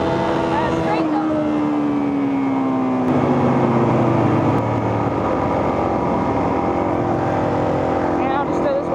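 A motorcycle engine holds a loud, close drone, then its pitch slides down and rises again as the throttle is blipped for a wheelie, with heavy wind rumble throughout.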